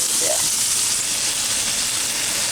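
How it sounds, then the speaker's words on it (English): Onions frying in chicken drippings in a pan, a constant dense sizzle close by and fairly loud, with no voices. "Flavor these onions. And we're just going to cook these down a little bit."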